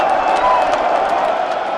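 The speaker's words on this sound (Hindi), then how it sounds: "माननीय प्रधानमंत्री जी का जोरदार तालियों के साथ स्वागत है" A dense, steady wash of crowd applause and cheering welcoming the Prime Minister at the Ayodhya Deepotsav, loud and continuous throughout, with a broad murmur of many people.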